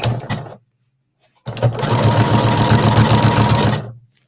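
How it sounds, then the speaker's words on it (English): A sewing machine stitches an appliqué beach towel. A short burst of fast mechanical whirring stops for about a second, then a longer, steady run of rapid stitching hums close by before winding down. "I'm going to drop my needle and do a couple of stitches and then do a few little back stitches here."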